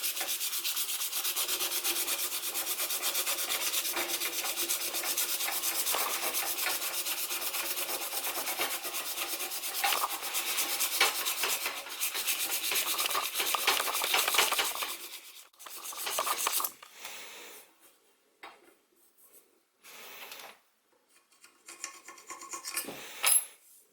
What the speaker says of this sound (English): you can sand this area to smooth it off